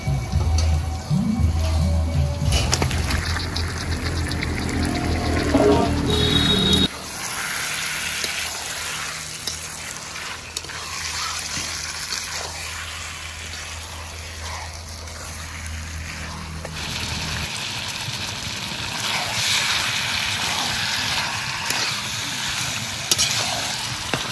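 Mutton chunks drop into spice paste that has been fried in a pan, setting off a loud hissing sizzle that fades to a steady, softer crackle of frying for the rest of the stretch.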